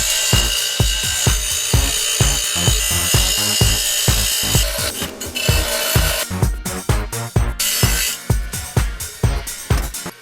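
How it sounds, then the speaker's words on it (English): Metal bolts being cut off with a power tool, loud rapid rhythmic rasping strokes repeating steadily throughout, close up and harsh. "Maybe I'll just grind them off."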